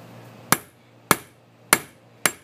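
Four sharp, evenly spaced hammer strikes on a metal cabinet hinge, each a crisp close metallic tap with a short ringing decay, over a faint low hum.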